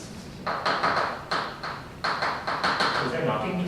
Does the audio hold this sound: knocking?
yes